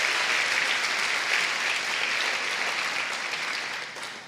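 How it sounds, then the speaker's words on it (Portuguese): Church congregation applauding during a sermon, a broad, steady roar of clapping from a large crowd that holds evenly and begins to fade toward the end. "Pode aplaudir a ele."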